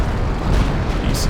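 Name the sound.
shell strike on mortar teams in video game Company of Heroes 2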